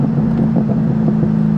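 A 2003 Ford Mustang Mach 1 with a 4.6 V8 and five-speed manual drives on after a downshift, giving a close, steady low engine drone with road and wind rush around it.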